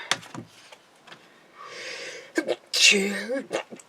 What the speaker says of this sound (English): Dust just got up my nose, making me sneeze.